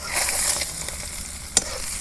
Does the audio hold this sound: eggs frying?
yes